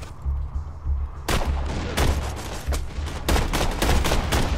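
Rapid gunfire from a gun in the video game Borderlands 2, loud repeated bursts of sharp shots starting after a brief quiet hum, firing in quick irregular clusters with deep booming low end.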